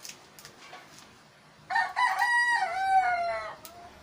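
A rooster crows loudly in one long, wavering call, with softer clucks and scattered chicken sounds around it.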